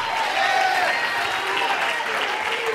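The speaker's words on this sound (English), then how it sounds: "I wish you'd clap your hands today" A church congregation applauds steadily for a few seconds, a dense patter of clapping hands under a faint murmur of voices, ending with one louder sharp sound.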